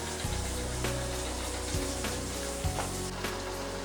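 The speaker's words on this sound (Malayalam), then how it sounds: "ഇതിലേക്ക് കഴുകി ഊറ്റിയ അരി നമുക്ക് അതിലേക്ക് ഇട്ട് കൊടുക്കാം" Washed, drained rice for chicken biryani goes into a pot of boiling water, giving a close, steady bubbling hiss with a splashy gush over soft background music.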